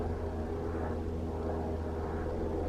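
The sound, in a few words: airplane flying overhead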